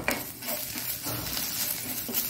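Coriander stems sizzle quietly in a pan while being prepared for sambar, with soft stirring and light clinks of a utensil against the pan.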